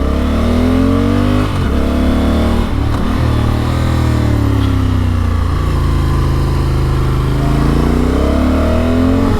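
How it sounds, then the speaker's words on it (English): Honda Africa Twin motorcycle riding on a gravel road, its engine droning steadily and close throughout with brief rises and dips in revs and constant wind and road rush. "So one thing that we love about the Africa Twin is what a great sport touring motorcycle it really is."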